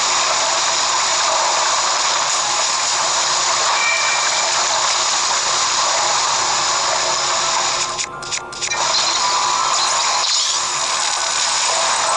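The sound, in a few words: waterfall in the video game Zelda: Breath of the Wild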